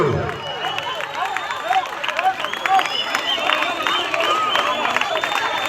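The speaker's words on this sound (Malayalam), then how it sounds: "കളിക്കളം കൈയടിച്ച് സ്വീകരിക്കൂ" Crowd applause and cheering greet a tug-of-war team at a final match, a dense sustained clatter of clapping with scattered shouts, mixed with babble and a live announcer's voice.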